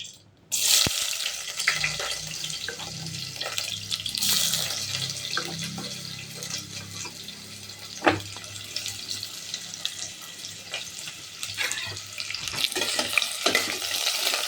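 Onions sauté in a pan for vegetable biryani, a steady close sizzle with occasional stirring clinks and scrapes throughout and no talking.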